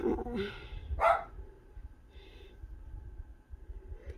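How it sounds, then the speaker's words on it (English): A dog barks a couple of times at moderate distance over a low background rumble, then quieter noises follow. "he's barking a bit more now"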